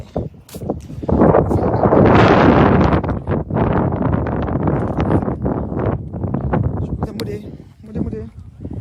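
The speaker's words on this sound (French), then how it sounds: "Il y a un peu de vent." Outdoor wind buffeting the microphone in a steady broadband rush, loud and near throughout, with a person talking over it.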